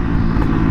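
A Kuba Bluberry motorcycle fitted with an Akrapovic exhaust and silencer runs with a steady, deep, throaty rumble, loud and close, with no talking over it.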